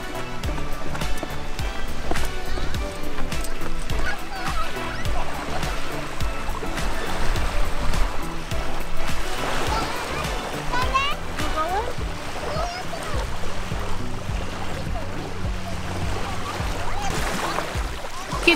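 Children splash and play in the sea at a popular summer swimming beach, with steady loud splashing and running water, kids' voices and chatter throughout.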